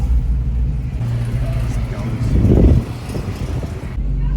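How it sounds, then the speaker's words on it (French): A car swells past close by and fades at the 24 Hours of Le Mans, over a steady background of traffic rumble and faint voices. "Il y a plein de voitures qui passent, évidemment."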